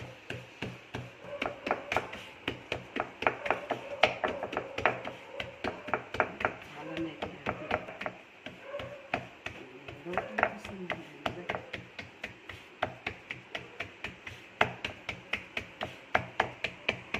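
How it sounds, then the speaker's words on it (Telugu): Jowar flour dough is patted by hand into a thin roti on a wooden board, a fast, even run of soft slapping taps close by while someone talks over it. "ఈ విధంగా మనము జొన్న పిండి ఇట్లా కలిపి ఇట్లా రొట్టె కొట్టుకోవాలి"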